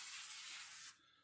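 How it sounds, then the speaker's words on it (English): A garden sprayer mists half-strength soluble fertilizer around celosia plants, giving one short, steady, quiet hiss that cuts off abruptly. "I'm just going to kind of spray it in around the plants here."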